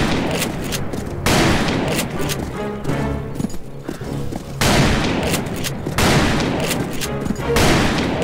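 Rapid bursts of gunfire crackle in loud volleys separated by brief lulls, dense and close, in the video game Call of Juarez: Bound in Blood.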